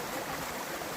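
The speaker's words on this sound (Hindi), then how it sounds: "अभी जो आपको ये आवाज़ आ रही है ना, ये पानी की आवाज़ है" Flowing stream water at Jatashankar in the Girnar hills, a steady broadband rush and gurgle that fills the whole second at an even level, with no voices.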